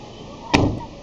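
A single solid thud as the door of a 1998 Toyota Revo 1.8 EFI Sport Runner is shut, close and short, over steady background noise.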